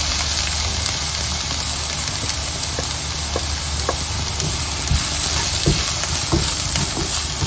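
Turmeric and chili powder frying in a pan while being stirred, a dense, close crackling sizzle running steadily throughout, punctuated by light scraping taps from the spoon.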